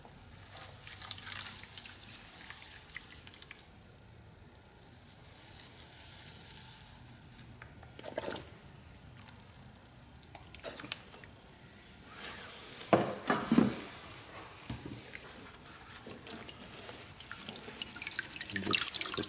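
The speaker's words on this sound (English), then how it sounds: "when you're washing the material out of the pan" Water swishing and washing material in a gold pan, soft sloshes and drips with a few louder splashes and scrapes, quiet and close.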